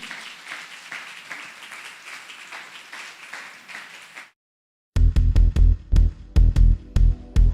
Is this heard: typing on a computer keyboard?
no